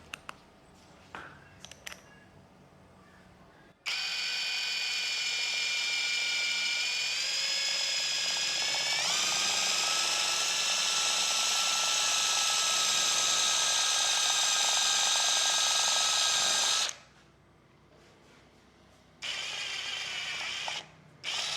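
A DOLIZ BD560 cordless brushless impact wrench runs on a 13 bolt in one long, loud, whining burst of about thirteen seconds, with rising pitch and rapid hammering, followed by a couple of short bursts.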